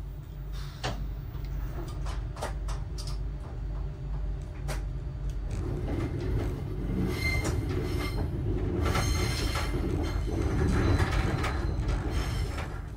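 An RER E commuter train sets off from the Technicentre depot, with a low rumble building as it rolls on the rails, then rising wheel squeal and metallic clatter. It is heard from close by, and no one talks.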